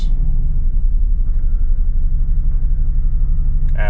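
Mercedes SL R230 engine idles steadily with a deep, constant low rumble while the gearbox is shifted through drive, neutral and reverse, ending in a brief mechanical clunk.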